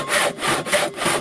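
A newly bought hand saw cuts wood during repair of a pond's water drain outlet, giving close, loud, rhythmic rasping strokes, about four back-and-forth passes with no talk.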